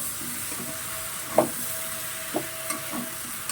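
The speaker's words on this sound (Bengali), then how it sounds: "এভাবে ভালোভাবে নাড়াচাড়া দিয়ে" Vegetables and prawns stirred in a cooking pan over a low sizzle, with a few distinct utensil scrapes and clinks, one louder knock, close by.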